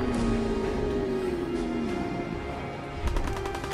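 Gunfire in Fallout 4 sounds as rapid, dense shots over a droning backdrop, with a sharper burst near the end, loud and continuous without talk.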